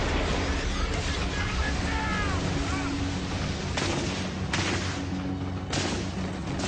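Rapid bursts of MG-42 machine gun fire in a World War II beach landing scene, loud and dense, with booming blasts and background shouting mixed in.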